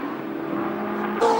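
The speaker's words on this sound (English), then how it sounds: "Now Seton coming up onto the back of Simon Emmeling's BMW 635" Touring cars racing at Wanneroo in 1986, including a BMW 635, give a steady loud engine drone with a brighter, rising engine note near the end as a car closes in.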